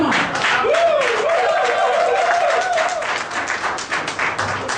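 An audience at a live business show applauds, a dense, steady patter of clapping that carries on throughout, while a voice calls out over it.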